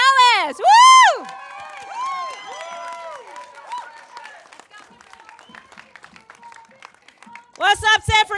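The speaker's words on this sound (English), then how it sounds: "Please give a big round of applause to Kimberly Ellis." An outdoor San Francisco Women's Equality Day crowd cheers and applauds for a speaker, starting with loud whoops and shouts, then thinning into scattered clapping and calls before a fresh burst of cheering at the end.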